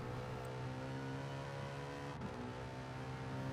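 Race car in Gran Turismo Sport powering out of a turn at Circuit de la Sarthe, a steady loud engine drone holding its pitch, near and continuous with no talk.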